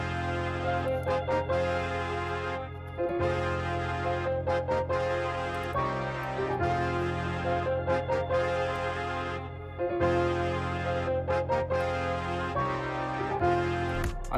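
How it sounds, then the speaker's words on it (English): A soft piano plays sustained root bass notes drenched in wash reverb for a brass-led trap beat, the low tones ringing into one another in long, even swells, close and steady with no voices. "Then after that, I wanted to add like a piano."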